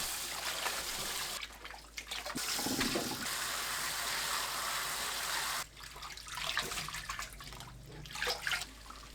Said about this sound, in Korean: 찬물에 헹구세요.